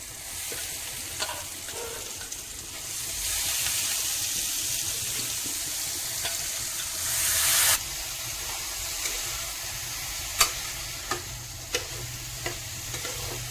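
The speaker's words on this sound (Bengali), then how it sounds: "দেখো আমি ডাল দিয়ে দিয়েছি এখন ভালো করে মশলার সাথে মিশিয়ে নিতে হবে" Soaked red lentils tipped into a pan of frying masala for a Bengali egg tarka, then stirred; a steady close sizzle and frying hiss with a surge partway through and several sharp spoon scrapes and knocks toward the end.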